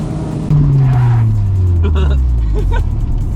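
A Honda Prelude engine revs with a slipping clutch, its drone sliding steadily downward in pitch while loud and close, with a few tyre chirps and voices over it.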